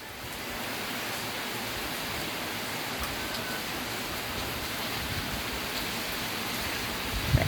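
Heavy rain pours down in a steady, dense roar that stays constant throughout, with no voices.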